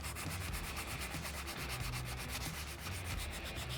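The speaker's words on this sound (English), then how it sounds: "Remember this when you guys are sanding." Sandpaper wrapped on a flat sanding block rubs steadily along the side of a workpiece, a continuous close, loud, raspy scratching with a faint repeating stroke rhythm and no talking.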